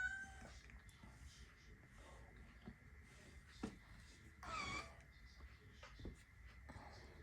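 Pepper the cat meows a few times, quiet and somewhat distant indoors, short cries standing out against a low, hushed room background.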